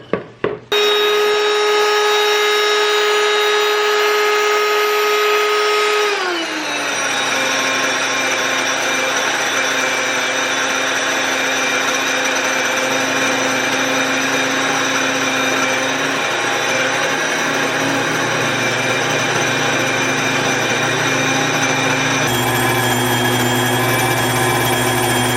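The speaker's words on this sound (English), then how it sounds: "I need to grind some more flour real quick." A grain mill grinds wheat into flour with a loud, steady motor whine and rumble. Its pitch drops after a few seconds and then holds as a continuous grinding drone, with no talk over it.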